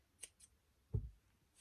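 Scissors snip off a yarn end after finishing a crochet piece: light clicks of the blades, then one soft low thud, all quiet and close with no talking.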